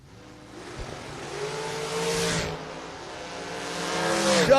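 An altered roadster and an S&W dragster launch side by side at a drag race, engines roaring loud and rising in pitch as they pull away, with a brief tire chirp and a growing high-revving wail toward the end.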